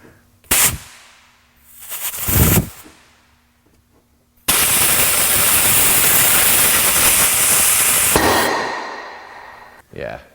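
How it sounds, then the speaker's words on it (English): A hard blast of compressed air fires a piston out of a front brake caliper during a rebuild, a long loud steady hiss lasting about four seconds, preceded by short puffs of air and a person talking. "But many times compressed air will do the trick."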